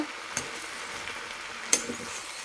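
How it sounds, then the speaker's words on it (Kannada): Potato and soya chunk curry bubbles and sizzles softly in a small pan, with a steady frying hiss and two brief taps of the spoon against the pan. "ಇನ್ನೊಂದ್ಸತಿ ನೀಟಾಗಿ ನಿಧಾನಕ್ಕೆ ಮಿಕ್ಸ್ ಮಾಡ್ಕೊಳ್ಳೋಣ"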